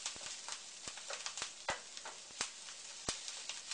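Wild rice stir-fry with added paste sizzling in a pan as it is stirred, a steady close crackling hiss punctuated by sharp ticks and spatula scrapes, no voices.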